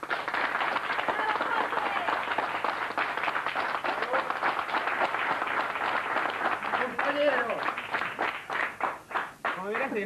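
A television studio audience applauds a guest on a 1988 Argentine talk show, steady dense clapping that swells and then thins into scattered claps, with a voice speaking over the end.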